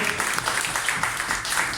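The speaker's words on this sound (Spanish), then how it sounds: "Un aplauso" An audience at a community talk about the right to consultation applauds a speaker with steady, dense clapping that fills the room at fairly close range.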